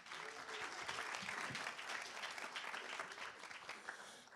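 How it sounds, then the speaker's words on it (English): An audience at a hall of fame panel event applauds for a speaker being introduced, a dense roomful of clapping held at an even level for several seconds, heard at a distance and fairly faint. "So let's give a big round of applause for Mr. Matt Graves"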